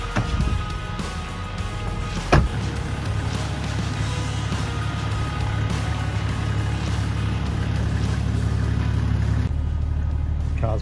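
Toyota Landcruiser 100/105 Series towing a feed out cart, a steady low engine drone with road rumble throughout, one sharp knock partway through, and no talk.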